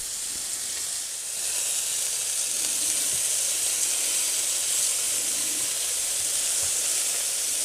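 Monkfish sears in olive oil in a hot pan, giving off a steady, bright, close sizzle with a constant hiss throughout. No voices are heard.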